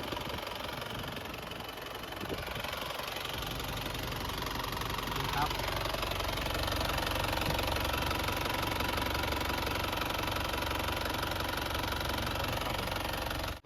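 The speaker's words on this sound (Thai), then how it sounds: "เสียงเครื่องยนต์เดินเรียบดีนะครับผม" A 1997 Isuzu TFR pickup with power steering idles steadily, a smooth continuous engine hum with faint knocking texture, heard close and alone for the whole stretch.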